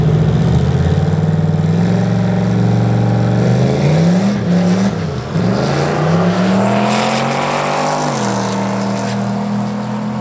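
A turbocharged LS-powered drag race car accelerating down the track, its loud engine climbing in pitch through several gear changes, dipping briefly between shifts before rising again, close and continuous with no talk.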